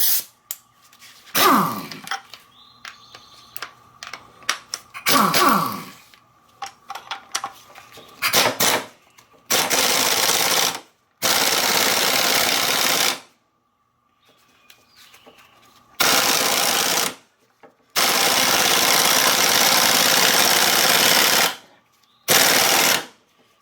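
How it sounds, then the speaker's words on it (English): An impact wrench drives a bolt home on a steering pump, first with short hammering bursts and then with several long, loud, sustained rattling runs broken by brief silences. "I'm going to use my impact wrench to quickly get that to go home."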